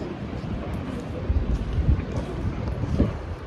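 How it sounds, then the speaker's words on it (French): Steady wind buffeting a microphone outdoors in Cannes, a low rumbling roar with gusty bumps throughout. "Et il y a pas mal de vent"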